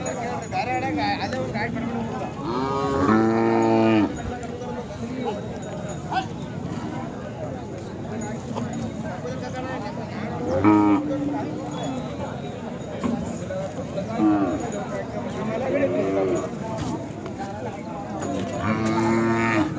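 Khillar cows moo now and then over a busy cattle market din in Sangola, with people talking throughout in the background.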